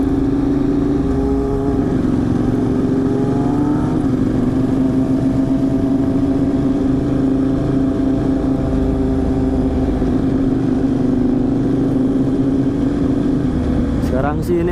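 Ducati 848 EVO motorcycle cruising around town, a loud steady engine drone with slight pitch shifts throughout and a rider talking over it.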